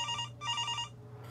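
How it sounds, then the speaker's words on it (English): Telephone bell ringing in two clear bursts with a pause between, moderately loud and close, fading out after the second ring with no voices present. "The sound of that phone ringing had become sickening"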